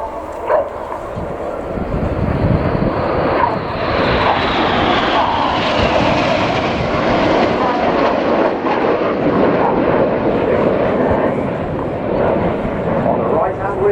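Red Arrows jets in formation roar overhead in a sustained, loud wash of engine noise that swells and slowly shifts pitch, while a commentator talks over it.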